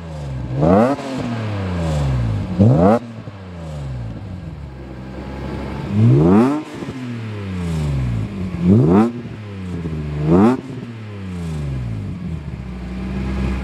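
A BMW E36 M3 with an Active Autowerke exhaust revs repeatedly from idle, giving about six sharp rising blips spaced a second or two apart, each dropping back to a low burbling idle, loud and close with no talking.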